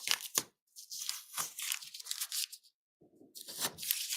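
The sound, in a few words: peeling tape off a model module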